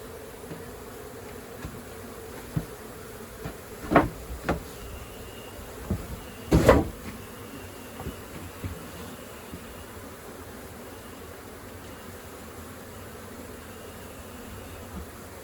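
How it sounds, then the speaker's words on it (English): A mass of bees buzzes from a hole in a backyard shed during a removal, a constant low hum with louder bursts and whooshes as individual bees pass close, roughly steady throughout. "inside this hole there is a lot of bees"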